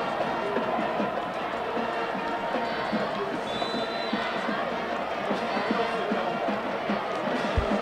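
A sellout stadium crowd fills a high school football game with a continuous, dense roar of voices and cheering, steady throughout, with a commentator speaking over it.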